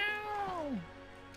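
A single drawn-out cat meow in the video game Lego Worlds, clear and close, falling in pitch and fading out.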